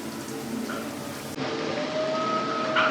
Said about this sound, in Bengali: এক চুলায় হচ্ছে ভাজি হচ্ছে